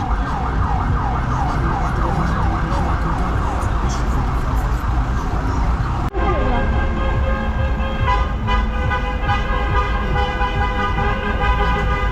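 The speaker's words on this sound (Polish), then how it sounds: "klaksonie działają i życzenia sobie składają przy okazji." Car horns honk in sustained blasts amid busy New Year's traffic in Tirana, while a stuck fire engine's siren wails over the din and voices talk in the background.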